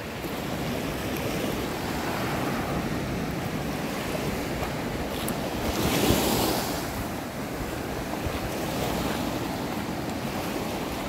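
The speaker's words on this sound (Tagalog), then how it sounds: "matataas yung alon eh" High ocean waves roll and crash onto a white sand beach at Pagudpud's Blue Lagoon, a steady loud surf with wind rumbling across the microphone and one bigger breaking swell near the middle.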